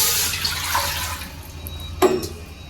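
Water splashes and pours into a cooking pot while preparing a seafood boil, a brief watery rush near the end after a steady background wash, no talking.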